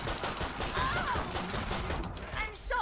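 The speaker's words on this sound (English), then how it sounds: "Just kind of just empty out the rest of the pistol into him." Rapid bursts of pistol fire in the video game Killing Floor 2, a dense run of shots blurred together at moderate volume, with a voice talking over them.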